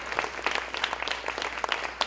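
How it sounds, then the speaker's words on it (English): Audience applause at a TEDxYouth event at Buffalo State College, fairly faint and distant, with individual claps standing out in an uneven patter for about two seconds and no speech. "Let's give them a great big round of applause."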